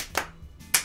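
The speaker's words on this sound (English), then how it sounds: "yes, the slow clap" Two separate hand claps spaced well apart, a slow deliberate rhythm with quiet gaps between them, close and clear.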